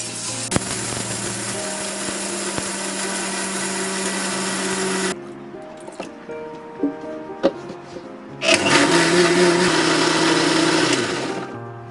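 A mixer grinder whirs loudly as it grinds moong dal chutney in a mixie jar, running steadily for about five seconds, pausing with small clicks and knocks, then starting up again for another long burst.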